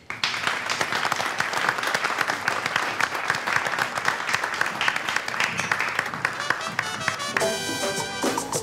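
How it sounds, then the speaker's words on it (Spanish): Loud, dense applause and clapping from a stage audience greets a tropical singer, sustained throughout before music begins to rise near the end. "Recibámosle con un fuerte aplauso"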